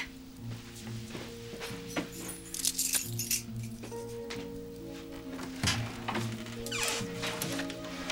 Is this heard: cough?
no